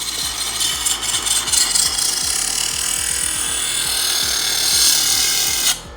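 A Vevor electric knife sharpener grinds a knife blade in its coarse slot, a loud continuous motorized rasp with a faint rhythmic scraping underneath that cuts off abruptly near the end.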